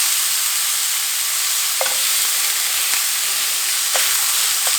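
Ground beef browns in a pan for goulash with a continuous dense hiss of frying. A few sharp scrapes and taps from breaking up the meat sound over it, with no voices.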